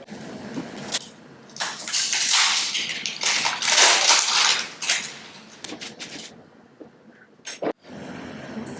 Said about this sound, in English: So let's unwrap the box and see what they are providing inside.